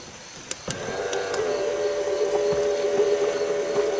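An ANCEL S1000 smoke machine leak detector pumps into a vehicle's gas tank, vacuum lines and evap lines: a few sharp clicks, then a steady, even motor drone that holds on close by with no talking.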